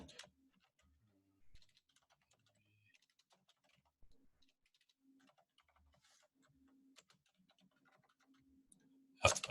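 Quiet, sparse clicks of typing on a computer keyboard during data work in Power BI, scattered taps with long pauses between them, with a louder burst of noise at the very end.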